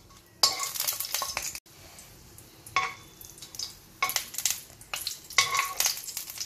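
Two or three dried red chilies fry in hot oil in a pan, with a soft sizzle under repeated bursts of stirring and spatula scrapes against the metal, close by and with no talking.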